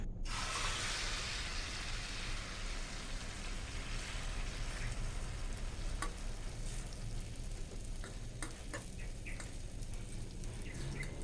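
Cha-om omelette frying in a pan, a loud bright sizzle bursting at the start and continuing steadily, with occasional small crackles and pops as the egg cooks, no talking.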